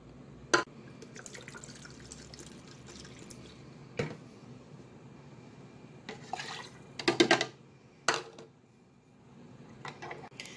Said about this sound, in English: you're going to add rubbing alcohol, about a 3/4 of a cup.